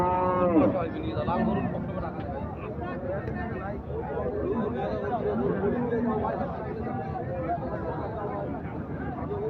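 Sahiwal breed cattle, including a four-toothed bull, at a busy livestock market, with lowing moos near the start over a steady crowd babble and close talking throughout.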